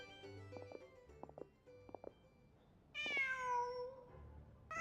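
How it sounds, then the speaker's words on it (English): A cat meows in the video game Genshin Impact, a rising and falling game sound effect heard once, fairly clear, after a few soft tapping sounds over quiet background music. "Just a cat."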